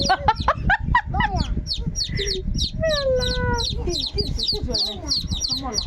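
Chickens cluck close by in a busy run of short, repeated calls, with a longer drawn-out note partway through, while people talk over them.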